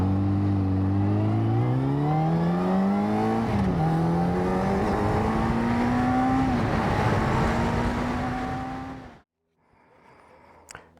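A Kawasaki ZZR600 motorcycle revs and pulls away on its first ride after restoration, its engine climbing steadily through the gears, loud and close, before cutting off abruptly near the end.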